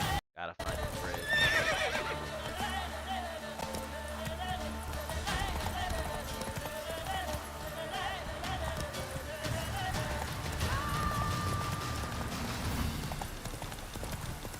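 Roach the horse gallops with steady clip-clop hoofbeats and lets out neighs in a video game, loud and close, with game sounds mixed in and a voice talking over parts.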